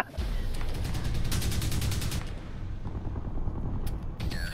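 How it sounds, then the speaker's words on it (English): Rapid automatic fire from a lightweight assault rifle in Crysis 3 on PC, a dense sustained burst of close, loud shots running almost the whole time with brief sharper cracks near the end. "It's a lightweight assault rifle, apparently."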